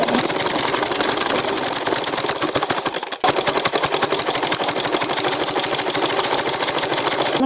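A home sewing machine runs steadily with a fast, even mechanical clatter while double-stitching a dress shoulder seam. It pauses for a moment midway, then resumes at the same loud, continuous pace.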